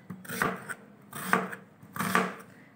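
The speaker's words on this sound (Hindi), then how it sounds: "तो प्याज हम काटेंगे बारीक" Onion being finely chopped with a knife for spinach mutton curry: three bursts of rapid chopping strokes on a board, each about half a second long, separated by short pauses, close and moderately loud with no talking.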